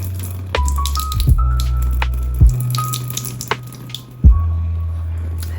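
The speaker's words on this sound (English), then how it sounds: "I think that was a nice generous pour." Water pours and splashes from a tap over a vintage 1988 Garden Party Barbie doll's head in a sink, a steady running stream with a few louder splashes and drips, close and alone.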